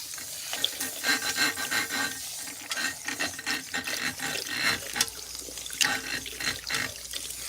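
Water runs steadily from a salon sink tap while hair is shampooed with a clarifying shampoo, a continuous close splashing and trickling wash with uneven surges, and no voices over it.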